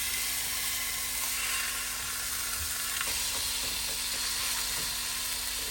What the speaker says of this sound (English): We're gonna make some taco meat.